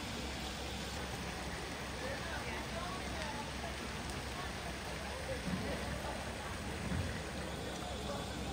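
Heavy rain falls at Oshino Hakkai near Mount Fuji in Japan, a dense, even hiss of drops on surfaces that persists throughout, with someone speaking over it at a distance.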